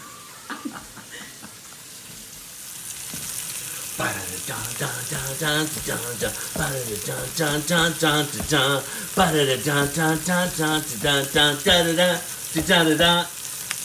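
Pork tenderloin sizzles in a pan with a steady soft hiss throughout, and people talk over it for most of the stretch.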